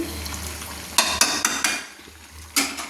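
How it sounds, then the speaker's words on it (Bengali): Mutton kosha stirred in a pan, with a low steady hum under a handful of sharp spatula scrapes and clinks against the metal, the last one coming after a short pause. "তো আমি সুন্দর করে নেড়ে নিচ্ছি।"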